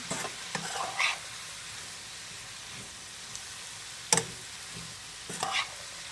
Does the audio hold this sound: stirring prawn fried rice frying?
yes